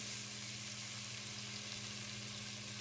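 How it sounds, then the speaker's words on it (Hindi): Tomatoes and masala frying in a pan for a palak chicken curry, a soft, steady sizzle with faint stirring, quiet and continuous with no talking. "इसके बाद अब हम कम से कम टमाटरों को अच्छी तरह से हल होने तक इसे भूनते रहेंगे"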